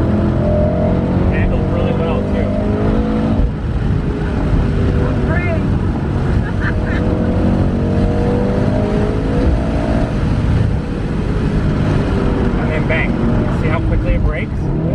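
A Mercedes-AMG car drives and accelerates hard, its engine droning loudly and rising and falling in pitch through gear changes, with occupants' voices underneath.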